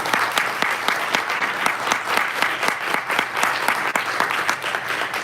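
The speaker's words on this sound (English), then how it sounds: "Let's give them one more round of applause." A forum audience gives sustained applause to the candidates at an Illinois state comptroller forum, with dense, even clapping filling the room and no voices on top.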